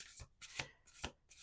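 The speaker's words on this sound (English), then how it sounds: "Let's do one more shuffle." A deck of cards being shuffled up close: several quick riffling bursts in an uneven rhythm, fairly quiet, with no talking.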